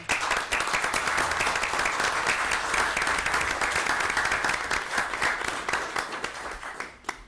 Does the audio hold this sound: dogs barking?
no